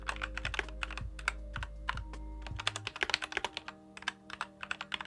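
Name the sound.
typing on Ajazz AK871 mechanical keyboard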